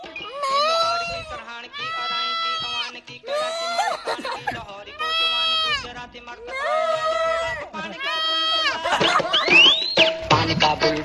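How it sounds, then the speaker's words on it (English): Goats in a village in Pakistan bleating in a run of loud, close, wavering cries, several calls in succession with short pauses between them and a high squeal near the end. "And even spoke to some goats."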